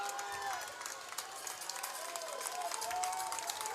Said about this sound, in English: So the crowd gets stirred up here on the Clinton-Massie sideline.